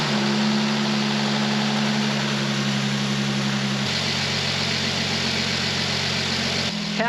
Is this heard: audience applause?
no